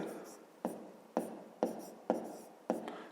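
A pen scratches across paper in five regular strokes as a math solution is written out by hand, close and quiet.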